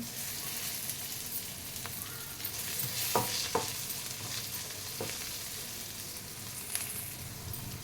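Onions and curry leaves frying in a pan for onion rice give a steady, close sizzle, with a few sharp stirring scrapes breaking through now and then.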